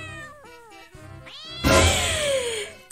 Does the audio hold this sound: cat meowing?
yes